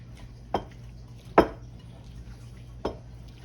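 Hot creamy potato salad being mixed in a bowl, with three spaced clinks and scrapes of a utensil against the bowl over a quiet background hum.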